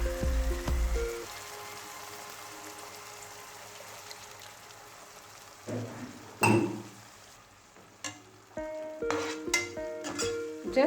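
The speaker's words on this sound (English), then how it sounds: "Just mix it" Egg masala curry with tamarind pulp being stirred in a pan: soft bubbling and sizzling underneath, punctuated by a few sharp clinks and scrapes of a spoon against the vessel.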